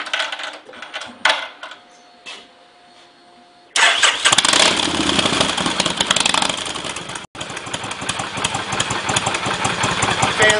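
A motorcycle engine cranks a few times, catches and roars to life, then settles into a loud, steady idle with a brief dropout.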